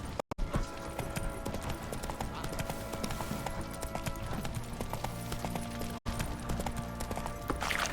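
Roach, a horse in The Witcher 3, clip-clops steadily on hooves through a busy game soundscape, the footfalls continuous under music and ambient effects, with a voice speaking briefly.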